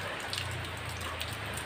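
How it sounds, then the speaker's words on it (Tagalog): Steady rain falls outdoors in Caloocan, Manila, a soft continuous patter of drops on surfaces with a low background hum running underneath, no voices present. "Maulan dito sa Manila ngayon."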